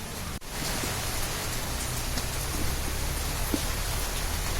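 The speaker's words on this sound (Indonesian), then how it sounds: "Memang di Februari ini sedang cuacanya hujan dan angin" Steady, dense rain with wind blows across an outdoor flower nursery in Cipanas, a continuous hissing wash with no voices over it.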